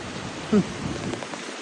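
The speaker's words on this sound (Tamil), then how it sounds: "அடிச்சு ஊற்று சரியான மழை பெஞ்சிக்கிட்டு இருக்கு" Heavy rain pouring down in Jeddah, Saudi Arabia, a steady, dense hiss of falling water on surfaces, close and continuous.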